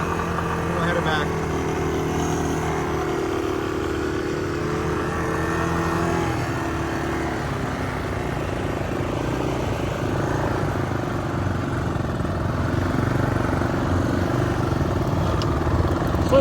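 A Honda trike towing a Swisher trail mower across a ranch meadow, with a steady low engine drone and the mower running underneath throughout, and a person talking over it.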